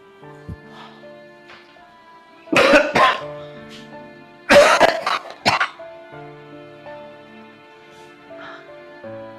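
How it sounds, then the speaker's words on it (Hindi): Two bursts of harsh coughing, a short fit followed by a longer, louder one, standing out against a quiet background with a faint steady hum. "खांसी भी मेरी जान लेके जाएगी अब तो"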